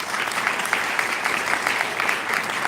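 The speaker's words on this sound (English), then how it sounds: "Can you give our administrators a roaring round of applause?" A graduation crowd gives administrators a round of applause: loud, dense clapping from a large audience, continuous and close throughout, with faint crowd murmur beneath.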